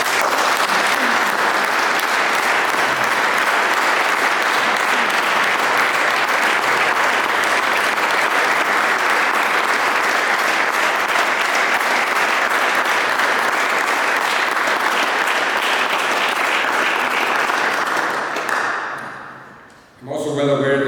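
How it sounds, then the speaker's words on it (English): Sustained audience applause at an institute's 70th anniversary event, loud, dense clapping holding steady for a long stretch before fading out abruptly near the end. "please give them, again, a big round of applause"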